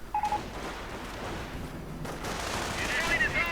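Gunfire rattles through a Company of Heroes battle as riflemen and Panzer Grenadiers exchange fire, with dense overlapping small-arms bursts and a brief tone early on, mixed under busy game sound.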